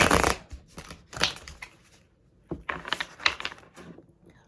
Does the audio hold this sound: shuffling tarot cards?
yes